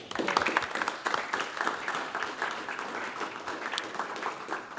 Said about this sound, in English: A big round of applause for Vavra and Ma.